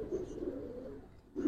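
A silver Giribaz pigeon gives a low, steady coo that fades briefly and then swells again, soft and close with no talk over it.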